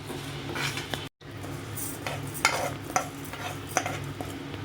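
Basmati rice dry-roasting in a pan, stirred with a spoon: a steady dry scraping and rustling of grains against metal, with a few sharper clicks, close and alone.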